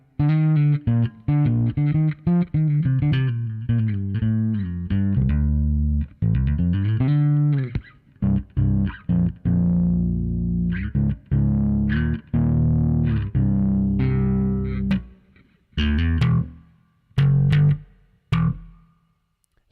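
Bass guitar played through a ToneX One pedal with a big room reverb, heard alone and close: a run of plucked notes and phrases with long ringing tails that fill the space, then sparser hits trailing into short decays near the end.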